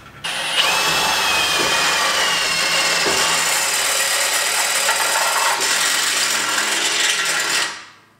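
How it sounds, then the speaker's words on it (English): A drill bores a 10 millimeter hole through a metal bracket while fitting an ARB rear bar on a Jeep Wrangler TJ, a loud continuous grinding whir with gritty scraping texture that runs steadily for several seconds before winding down. "So we'll drill that out and put the nut through."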